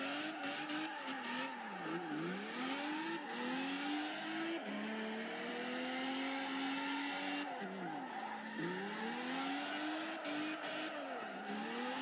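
Supercharged Lotus drift car in Assoluto Racing, the engine revving and swinging up and down in pitch over continuous tire squeal as it slides through corners, loud and close throughout.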